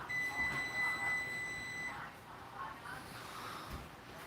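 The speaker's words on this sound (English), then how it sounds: "Oh, there's the timer on this one." A dab rosin press timer sounds a rapid series of high electronic beeps for about two seconds, then stops, leaving quiet room noise.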